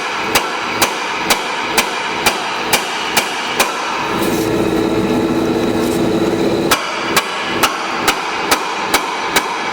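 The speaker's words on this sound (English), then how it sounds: "Take you a good hammer, smack it." A hammer smacks a part on a locked-up Polaris 325 ATV engine in steady, evenly spaced metallic strikes, paused midway by a few seconds of droning mechanical noise before the blows resume.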